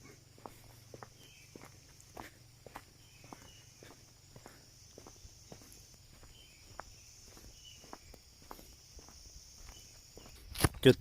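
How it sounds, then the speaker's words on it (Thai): Footsteps crunch steadily along a forest trail at Phu Foi Lom nature park on the walk toward the sunrise viewpoint, an even walking pace of fairly quiet steps over a faint insect hum, ending in a louder rustling burst. "เราจะเดินไปอีก"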